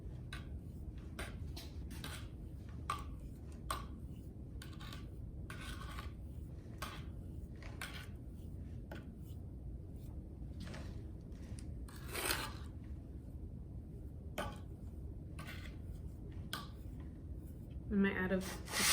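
Wax being scraped during lost-wax kiln work, with irregular short rasping and scratching strokes at a moderate level and a few louder scrapes near the end, under a low background hum.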